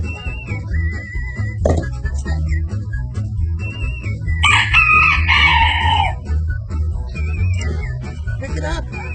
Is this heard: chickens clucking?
yes